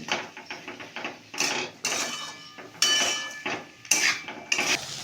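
Potatoes frying in a pan over a medium-high flame, with a utensil clinking and scraping against the pan in irregular bursts, close up and moderately loud, with no one talking.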